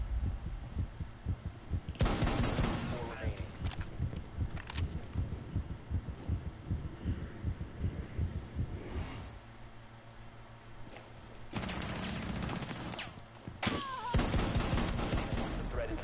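A spammable rapid-fire gun in a video game, fired in dense, fast bursts of loud shots that rattle on for long stretches, pause briefly, then resume.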